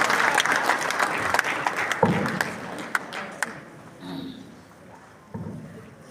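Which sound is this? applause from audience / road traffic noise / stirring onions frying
applause from audience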